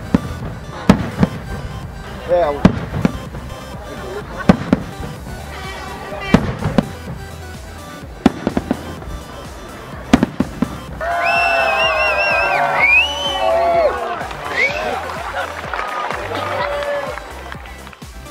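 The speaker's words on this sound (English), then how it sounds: "watch the 12 o'clock midnight fireworks" Sharp New Year's Eve midnight fireworks bangs pop irregularly through the first half, then crackling whistles and bursts layer over a murmuring crowd, with a brief voice heard.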